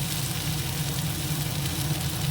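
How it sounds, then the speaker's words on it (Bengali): Garlic paste fries in a pan with a dense, even sizzle that holds steady and close throughout, with no voices. "ভাজা করে নিই তাহলে কাঁচা রসুনের গন্ধটা চলে যাবে"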